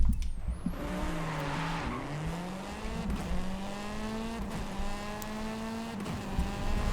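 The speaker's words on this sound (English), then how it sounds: "I use the Escort, and I'd say we jump right into the drift zone." Ford Escort drifting in Forza Horizon 5, tires squealing continuously under a revving engine whose pitch rises and falls through a long sustained slide, loud and close with no talk.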